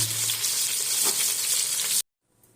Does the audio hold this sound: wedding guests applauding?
no